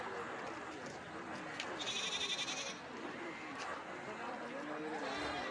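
A goat bleats briefly once in the middle, faint over a busy background murmur of an outdoor crowd at a festival goat market in Kerala, where large billy goats are sold.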